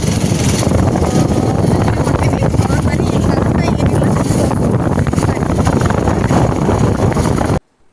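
A motorcycle rides along on the road to Navalgund, its engine drone mixed with heavy, steady wind rush buffeting the microphone at close range throughout, then cutting off suddenly at the end.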